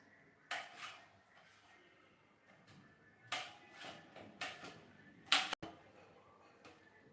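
A knife chops brinjal on a cutting board, with about five sharp, separate strikes spaced unevenly across several seconds, quiet and close, with no talking.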